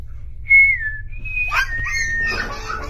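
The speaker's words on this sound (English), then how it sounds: "Right after he whistles" A person whistles a few sliding, tonal notes close by, loud at first, then softer, followed by faint, scattered noises in a quiet room.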